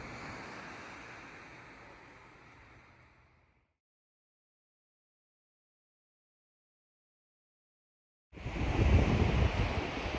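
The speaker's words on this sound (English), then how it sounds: "I could listen to the sounds of the ocean" Ocean waves wash onto an empty beach at Newport, with wind noise mixed in. The broad, hissing surf fades away, drops to near silence, then surges back loud and close.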